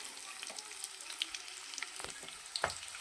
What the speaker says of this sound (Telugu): ఎండుమిరగాయలు వేయించుకొని తాలింపు అండి.